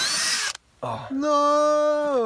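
A power drill bores into wood while a recycled gate with wooden hinges is being built, opening with a harsh hiss, then after a short pause rising into a steady, loud motor whine.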